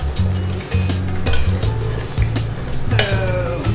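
A spoon stirs peanut butter into a thick stew broth in a pot, giving repeated scraping and clinking strokes over a low bubbling simmer, close and fairly loud, with no talking.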